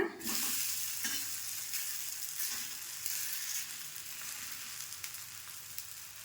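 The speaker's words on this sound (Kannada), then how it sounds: "ಇವಾಗ ಒಂದು ಸೈಡ್ ಬೈತಿದ್ದಾಗೆ ಇನ್ನೊಂದು ಸೈಡ್ ತಿರುವಿ ಹಾಕೋಣ" Akki rotti, a rice flatbread, fries on its second side with oil around it; a sharp burst opens the sound, then a close, steady crackling sizzle with small pops continues and gradually softens.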